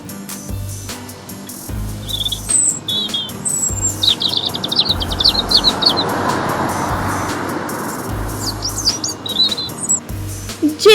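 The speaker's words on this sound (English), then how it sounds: "I am an Indian robin." An Indian robin calls in a series of short, bright chirps and whistled phrases scattered across the stretch, clear and fairly close over a steady wash of distant road traffic.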